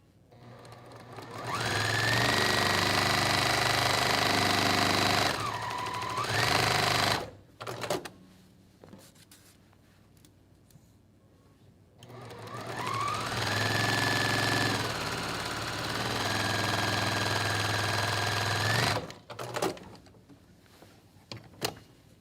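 A sewing machine stitches the last two seams of a jelly roll quilt in two long, steady runs, pausing briefly in between. The motor hums loudly and evenly with no talk over it.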